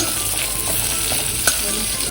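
Cumin seeds crackling in hot oil in a pan for a fish curry, a close, dense, steady sizzle with one sharp pop midway, no voices.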